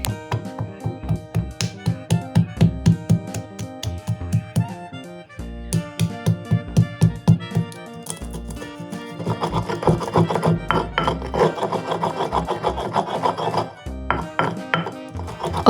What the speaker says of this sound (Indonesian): Ini semua bumbunya kita ulek sampai halus.